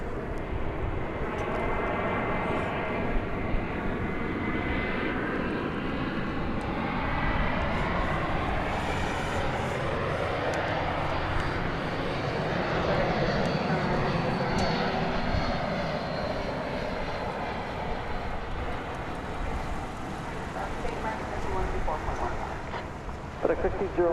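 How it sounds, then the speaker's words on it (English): A Spirit Airlines Airbus A321 jet on approach at DFW Airport at night roars steadily for over twenty seconds, swelling and fading as it passes, loud and sustained with no talk over it. "Spirit Airlines Flight 390 from Orlando, Florida. It's an Airbus A321."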